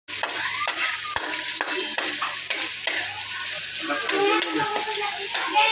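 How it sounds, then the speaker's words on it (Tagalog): Garlic and onion sauté in a hot pan for a chicken and pineapple dish, with a continuous close sizzle punctuated by repeated scraping stirs of the spatula. "Magigisa tayo ng bawang sibuyas."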